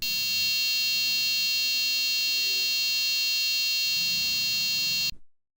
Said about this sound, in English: now you can hear the sound produced by the buzzer